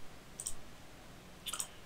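Two separate, crisp mouse clicks sound close against quiet while someone edits in Premiere Pro, with about a second between them.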